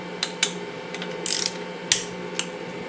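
A ratchet wrench working loose the oil-filter cover bolts on a race bike during race prep: several sharp, close clicks in irregular bursts over a steady low background hum.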